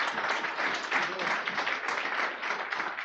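An audience at a chamber luncheon gives dense, continuous applause, with many hands clapping at an even, sustained level and no talking over it.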